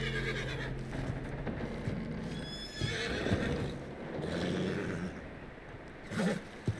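Agitated horse whinnying in Red Dead Redemption 2, loud shrill neighs rising near the start and again in the middle, with hoof clops and snorting in the game world around it.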